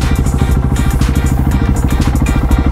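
A small motorcycle's engine idles close by with a loud, steady low thumping chug while it is being squeezed into a parking spot, with faint clatter over the top and no speech.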